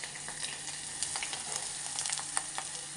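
Homemade red masala is sautéed in a pan, a low, even sizzle with scattered light crackles and a few soft stirring ticks, fairly faint and heard alone.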